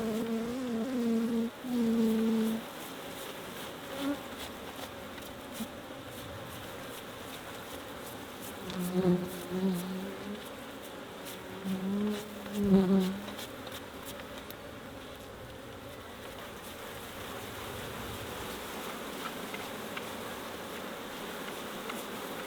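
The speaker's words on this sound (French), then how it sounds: "Je vais secouer les abeilles, je vais les brosser." Honeybees buzzing densely and continuously around a hive frame as they are brushed off, with close, rising swells of buzzing over a steady swarm drone.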